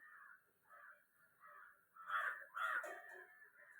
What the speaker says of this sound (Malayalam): കാക്കടൊക്കെ സൗണ്ട് കാരണം കേൾക്കാൻ പറ്റുന്നുണ്ടോ